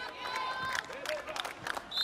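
Indoor arena crowd at a women's Olympic qualification volleyball match, Peru against the Dominican Republic, applauding and cheering at moderate distance, with whistles and shouts rising and falling beneath a commentator's voice.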